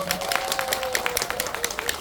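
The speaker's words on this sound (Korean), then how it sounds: "큰 박수 한번 부탁드리겠습니다" Steady applause from an audience at a film festival talk event, dense overlapping claps filling the whole stretch at moderate volume, with a faint tone running underneath.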